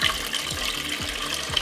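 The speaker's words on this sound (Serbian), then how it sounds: "I evo nakon 15 minuta vratit ćemo vodu u šerpu." Water is poured from glass jars back into a cooking pot, a steady close splashing stream with soft gurgles throughout.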